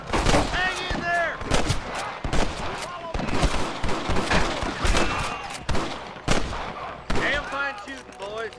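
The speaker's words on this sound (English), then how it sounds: "Damn fine shooting, boys." Rapid gunfire in the western video game Red Dead Redemption, a dense barrage of sharp cracks and overlapping shots from several guns, loud and close, with shouting voices and whistling ricochets between the blasts.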